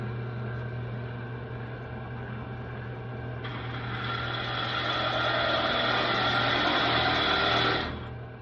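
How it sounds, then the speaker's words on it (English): A motor hums steadily, then a dull power-drill bit bites into wood with a harsher, louder grinding whir that holds for several seconds before cutting off abruptly. "So might get some smoke in the old drill bit"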